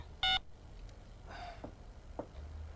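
A telephone is dialed to call the police, with a short burst of bright keypad tones at the start followed by a few faint clicks and quiet background sounds.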